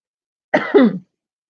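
A single short cough from a person with a sore throat from allergies, two quick harsh bursts, close and clear, alone in silence.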